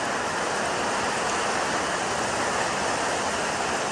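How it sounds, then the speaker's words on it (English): Steady, dense downpour of heavy rain hissing continuously throughout, loud and close, with no voices. "Definitely raining now."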